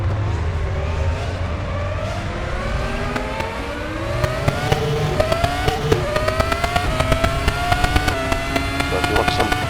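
Formula race car engine screaming around Spa in the RaceRoom sim racing game, a loud continuous howl that climbs in pitch through repeated upshifts with sharp shift blips.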